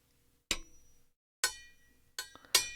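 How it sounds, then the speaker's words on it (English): A metal spoon strikes a plastic tub of cornstarch in four bright clinks, each ringing briefly, the last two close together, close-up and alone in a quiet room. "It's a metal spoon against a plastic tub"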